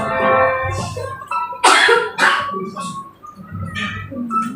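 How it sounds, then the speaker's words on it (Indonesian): Several sharp coughs from a person during a church worship service in Jakarta, two loud close bursts in the middle, set between sung or spoken voice sounds. "batuk."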